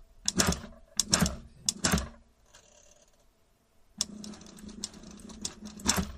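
A sewing machine driven by a MAK SM750P 750W servo motor runs in short mechanical bursts, first three rapid clattering runs, then a quiet pause with faint whirring, then a longer steady chattering run, with no talking.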